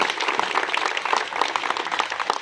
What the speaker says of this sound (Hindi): उनके लिए भी उनकी हिम्मत बढ़ाने के लिए तालियां बजाएं